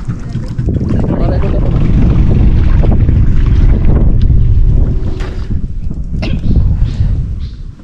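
A small wooden bangka outrigger boat motoring across open water, loud continuous engine rumble with heavy wind buffeting the microphone and splashing, easing slightly toward the end with brief voices in the background.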